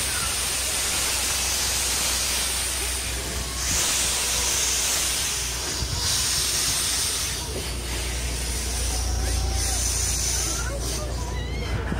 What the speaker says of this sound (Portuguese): Olha o trem lá!